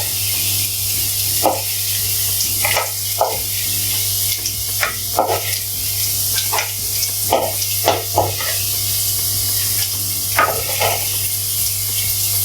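Pirandai (adamant creeper) sautés in oil for a spicy tamarind curry, giving a continuous hiss with repeated short stirring scrapes at an uneven rhythm, fairly loud and close.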